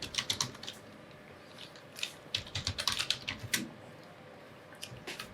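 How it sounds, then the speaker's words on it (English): Quick bursts of typing on a computer keyboard, close and clear, the keys clicking in short rapid runs with brief pauses between them. "So I'm just going to type in photography."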